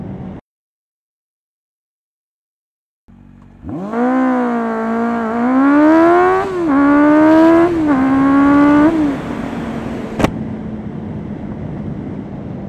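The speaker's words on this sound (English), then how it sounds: "Gotta rev the bike." A motorcycle engine revs hard after a near-silent pause: the pitch climbs, dips and surges again through several throttle blips, loud and close, then settles into a steady high idle.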